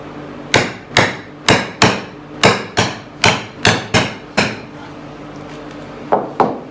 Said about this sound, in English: So I've just marked and punched the spot where I want to drill the holes for the shelf brackets.